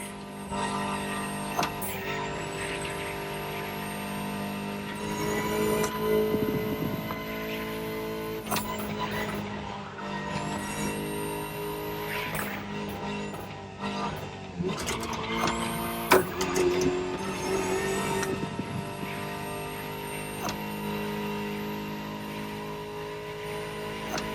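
A Ferrari supercar engine revs in The Crew Motorfest racing game, rising and falling through repeated gear shifts with sharp upshift breaks, steady and fairly close over about twenty-four seconds.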